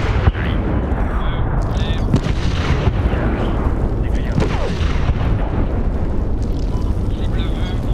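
Dense, continuous combat din from Medal of Honor 2010, with heavy gunfire and booming explosions filling the whole stretch loudly, with no clear breaks.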